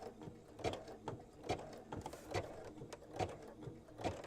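A domestic sewing machine stitches a small quilted mug rug, walking slowly over a thick seam in a series of about five evenly spaced, distinct mechanical thumps, near and fairly quiet.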